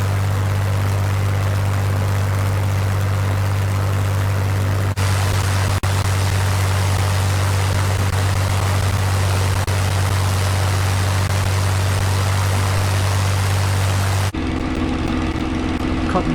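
An SE-5 biplane engine drones steadily in flight in a flight simulator, a loud continuous low hum that holds without a break for about fourteen seconds, then shifts in tone at the end.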